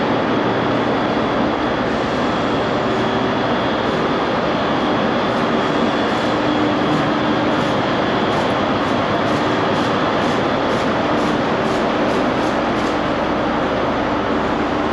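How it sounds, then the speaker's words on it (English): A class 156 diesel railcar at a Glasgow station produces a loud, steady engine drone and rumble that continues without a break for the whole stretch, with no voices over it. "there's that 156 diesel rail car that I showed you earlier, right there"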